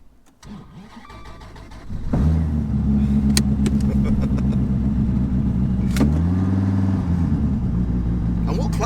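Twin-turbo 8.4-litre V10 Dodge Viper with a sequential gearbox fires into a loud, deep engine drone and pulls away, rising through a gear change, with people talking over it.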